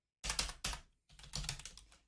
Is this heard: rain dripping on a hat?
no